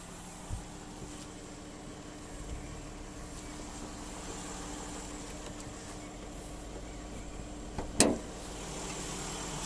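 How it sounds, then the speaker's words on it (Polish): Steady low idle of a 2015 Dodge Journey 3.6 engine, a constant rumble with a faint hum, broken by one brief sharp knock near the end. "Silnik pracuje, tak jak powiedziałem, bardzo ładnie."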